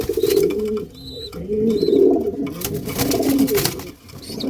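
Pigeons coo in soft, throaty, repeated calls close by, overlapping one another, with faint higher chirps in the background.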